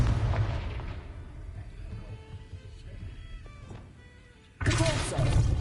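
Confringo fire spell explosions in Hogwarts Legacy, played on PS5: a loud burst opens, dense rumbling game noise continues, then a second heavy blast erupts near the end.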